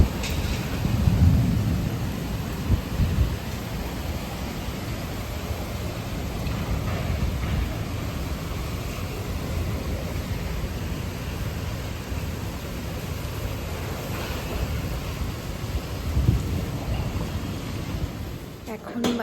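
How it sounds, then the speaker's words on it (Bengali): Thunderstorm with rain and strong wind, a broad, roaring rush of wind-driven rain that stays loud and steady with low rumbling swells and occasional gusts, with a voice speaking intermittently over it. "ভালো ঝড় উঠেছে"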